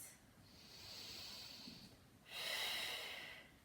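A person in a yoga pose breathes slowly and audibly, a long hissing inhale followed by a stronger, breathier exhale, close and soft with no talking.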